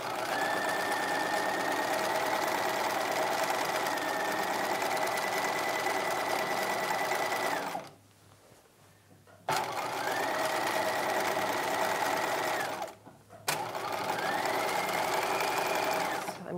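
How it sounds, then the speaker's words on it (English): Sewing machine stitching a quarter-inch guide stitch around the hem of a 1950s-style halter dress skirt, running steadily up close in long continuous bursts with two brief pauses. "I'm just going to be going around the entire skirt at a quarter inch. All I'm doing is creating a little guide stitch here."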